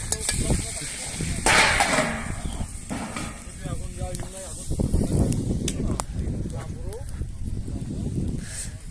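Shashlik meat sizzles on a grill beneath people talking nearby, with clatter and outdoor bustle around it, in Garm, Tajikistan.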